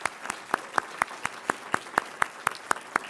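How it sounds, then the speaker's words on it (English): Sparse, evenly spaced claps ring out at a pro-life legal defense fund's century dinner, a dozen sharp hand claps in steady rhythm at moderate distance, sounding like a few people rather than a full room. "I'd like to give an applause to this guy"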